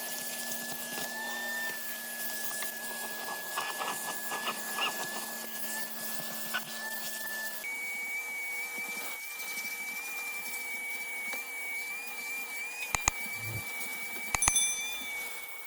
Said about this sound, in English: started vacuuming in this back little area here